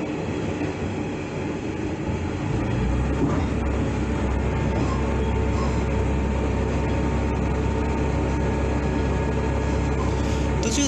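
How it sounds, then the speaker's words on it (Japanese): Interior of a moving train heading back from Anamizu Station, a steady loud rumble of wheels and carriage running continuously, with faint rail clatter throughout and no voices. "穴水駅からの帰りの電車の中です。"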